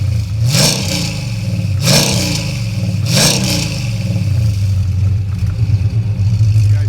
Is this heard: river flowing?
no